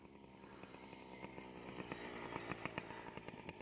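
Small Yamaha PW50 dirt bike engine revving during a wheelie, a buzzy two-stroke whine with rising throttle pulses, moderately distant and fairly faint.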